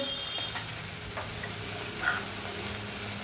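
Onion, ginger and garlic fry steadily in oil, giving a soft continuous sizzle with a few faint clinks of stirring, no voices.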